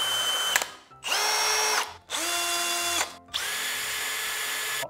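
A cordless hammer drill with a three-jaw chuck runs in three loud bursts, each spinning up to a steady high whine and then cutting out with short pauses between.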